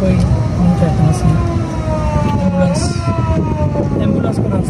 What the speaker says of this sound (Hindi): एम्बुलेंस को रास्ता हमें जल्दी देना